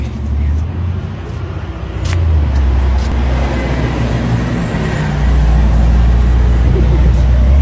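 A garbage truck rolls past on a windy street, its engine a loud, steady low rumble building over several seconds amid wind noise, with no talk.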